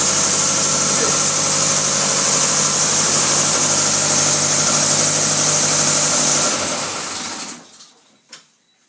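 A Land Rover Series 3 engine idles loudly and steadily up close, a constant rattling drone, then cuts off and winds down near the end, followed by a brief clunk.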